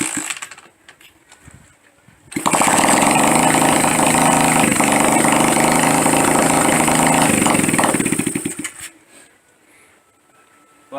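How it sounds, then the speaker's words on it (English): A motorcycle with its muffler removed fires up and roars loud and raw for about six seconds, then cuts off abruptly, leaving quiet background before and after. "I was wondering why there was a funny noise coming from the bike, but I completely forgot that I took the muffler off"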